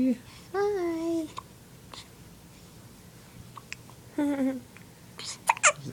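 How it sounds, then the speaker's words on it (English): A baby hiccups a few times, soft close little catches spread through the moment, amid quiet babbling and adult voices nearby. "The hiccups."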